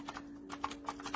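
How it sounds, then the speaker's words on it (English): Typing on an AULA F2088 typewriter-style mechanical gaming keyboard with blue switches gives a string of crisp, clicky keystrokes in uneven bursts, close and fairly quiet, over a faint steady hum. "The keys provide really good feedback, and I just be click clacking."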